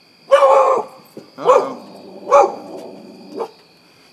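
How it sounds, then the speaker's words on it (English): Max the dog barking at the neighbor, four loud, sharp barks spaced about a second apart, close to the microphone, with a short spoken exclamation nearby. "My dog sees the neighbor and he's going crazy over the neighbor."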